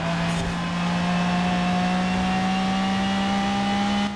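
A Pagani hypercar in Forza Horizon 4 racing flat out, a loud steady high engine whine holding a constant pitch at speed, close and alone.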